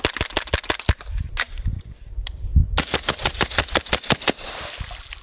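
Suppressed pistol-caliber carbine firing a rapid string of sharp, loud shots in quick succession, a brief pause, then another fast volley of evenly spaced reports, no talking.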